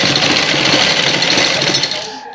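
A sewing machine runs steadily and loudly, stitching a folded strip along a round neckline, with a continuous mechanical whir that slows and fades near the end.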